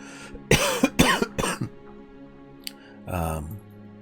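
Three sharp coughs in quick succession, close to the microphone and loud, followed by a short throat-clearing hum after a brief pause.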